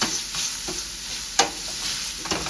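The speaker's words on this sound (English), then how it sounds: "So we are just frying up some bacon." Bacon sizzling in a pan for fettuccine alfredo with a steady crackling hiss, broken by a few sharper pops and stirring clinks, nearby and with no one talking.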